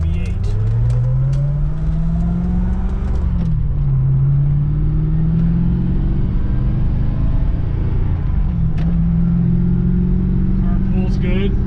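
A 1990 Chevy Corvette ZR1 with its LT5 overhead-cam 350 V8 pulls hard. The engine note climbs steadily, dips at each gear change and then climbs again, over a loud, continuous road rumble.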